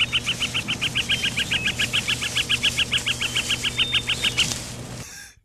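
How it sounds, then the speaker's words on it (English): Rapid, evenly spaced bird chirps repeat about twenty times in a steady rhythm, fairly loud and close, over a low hum, then stop abruptly. "I have bird sounds."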